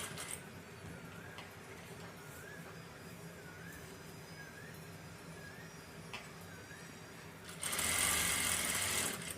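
A sewing machine stitching a seam in fabric, a steady fast mechanical whir with faint rhythmic ticking, rising to a louder, brighter burst of stitching near the end.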